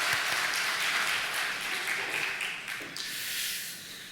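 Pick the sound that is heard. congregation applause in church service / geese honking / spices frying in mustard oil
congregation applause in church service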